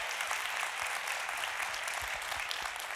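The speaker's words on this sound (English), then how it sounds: "will you give him a big thank you and round of applause?" Church congregation gives a campus pastor a round of applause: steady, full clapping from a large crowd, sustained evenly throughout with a few sharper nearby claps.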